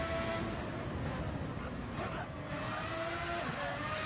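Racing car engines drone steadily throughout in a VR racing game, a loud continuous roar with a rising engine tone partway through, heard alone without talk.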